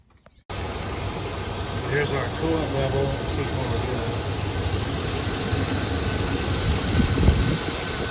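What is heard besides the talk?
car engine starting and idling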